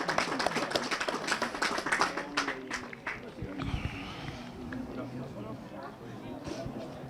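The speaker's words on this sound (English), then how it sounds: "as he receives a round of applause for his efforts." Scattered applause from spectators at an amateur football match as an injured player is helped off, light uneven clapping heard from a distance under a commentator's voice and fading after a few seconds.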